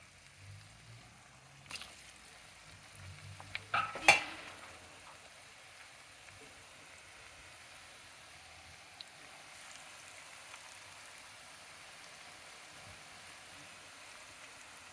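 Rice flour murukulu dough frying in hot oil on a medium flame: a faint, steady sizzling hiss with a few soft pops early on, with no talk over it.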